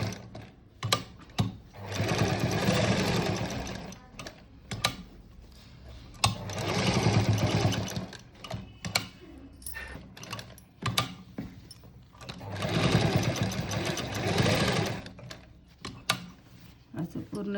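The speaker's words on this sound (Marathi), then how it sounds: "असं पूर्ण कडेला टिप मारून घ्यायची." A sewing machine runs in three sustained bursts, stitching tip edging around a cut-work blouse neckline, with short ticks and handling clicks between the runs.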